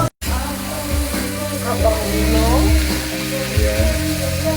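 Beef and peanuts sauté for kare-kare in a pan, with a steady close sizzle and some stirring, while a voice talks over the frying.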